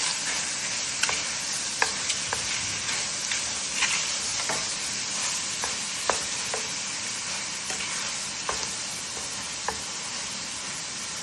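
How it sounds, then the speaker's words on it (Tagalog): Ground meat sizzling and frying in a pan, a steady close crackle with scattered pops and stirring scrapes throughout, no talk. "Pinala ko na itong pan at una ko nilagay itong yung hinilin na meat"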